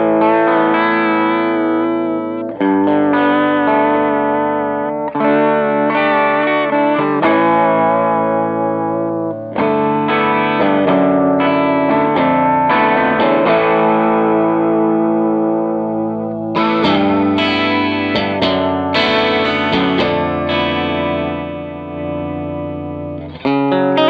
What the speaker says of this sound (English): all the way to the right is the wet signal of the vibrato or chorus